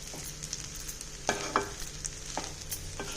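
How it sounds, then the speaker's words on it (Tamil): Thuthuvalai fried rice stirred in a pan, a spoon or spatula scraping and turning the rice with a few sharper clinks over a faint steady sizzle, close and fairly quiet. "எல்லா பக்கமும் சாதம் நல்லா கலக்கிற மாதிரி நல்லா கலந்து விடுங்க."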